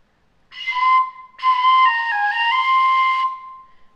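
A tin whistle fitted with a flute mouthpiece gives a breathy, flute-like tone, playing a short note, pausing, then a longer phrase stepping between a few pitches, clear and close.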